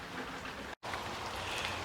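Steady rain falls on a cabin in Oregon, a soft continuous hiss of drops with a brief dropout in the middle, faint and unbroken otherwise, with no voices.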